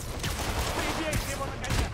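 Gunfire from the Marvel's Spider-Man video game, a dense, steady rattle of shots with a few sharper bursts, played loudly and continuously over the game's busy background mix.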